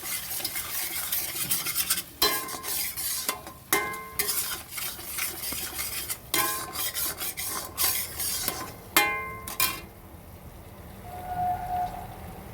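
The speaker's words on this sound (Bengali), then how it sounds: "আমি ভালো করে কষবো মশলাটা, খুব সুন্দর করে কষবো বন্ধুরা" Masala spices are stir-fried in a pan, with bursts of scraping and rubbing from the spatula over a soft sizzle, close up and repeated in uneven strokes, with no talking.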